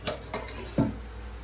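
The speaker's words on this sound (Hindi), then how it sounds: "सबसे पहले देखते हैं कि मम्मी खाना बना रही है।" Pots and utensils clatter in a home kitchen while vegetables cook, three separate knocks and scrapes, the last one loudest, over a steady low background hum.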